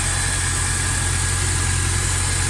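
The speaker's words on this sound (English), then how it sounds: "Right, so the engine's running. First start with the new manifold." A Honda S2000 engine idles steadily on its first start with a newly installed exhaust manifold, a loud, even low hum with a faint high whine, running without change throughout.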